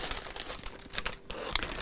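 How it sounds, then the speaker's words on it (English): Crinkling and crumpling of a plastic bag as a quilting kit, including a long thin pencil-style needle case, is pulled out of it: continuous close rustling with several sharper crackles, heard alone. "So sorry it's a little bit noisy while I just take that out of the plastic bag."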